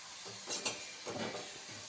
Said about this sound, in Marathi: चांगला सोनेरी कलर येईपर्यंत आपण ह्याला तळून घ्यायचं